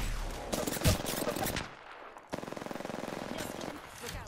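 Rapid automatic gunfire in the video game Apex Legends, dense bursts of rattling shots with a short pause before another steady burst, fairly loud and close.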